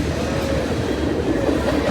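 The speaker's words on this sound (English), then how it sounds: "Roll the Western, Reading and Northern. This is the fun train." A Reading and Northern freight train rolls past close by, a loud, continuous low rumble and rattle of rail cars with faint clickety-clack, no voices.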